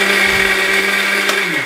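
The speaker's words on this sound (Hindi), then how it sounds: "किशमिश डाल के हमने इसको मोटा मोटा ग्राइंड कर लिया" A kitchen blender grinds tomato chutney with raisins into a coarse mix, a loud, steady motor whir that runs close-up for under two seconds and begins to wind down at the end, with no talk.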